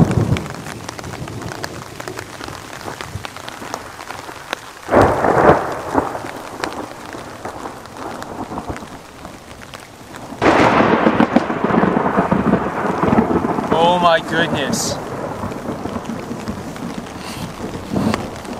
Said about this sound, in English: Huge bolts of lightning and then immediate thunder.